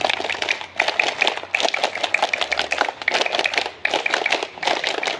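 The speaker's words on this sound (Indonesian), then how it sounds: "Dua kali tepuk Pramuka." Indonesian Pramuka scout rhythmic clapping done twice, a crowd beating out a brisk patterned clap in two matching bursts, loud and close.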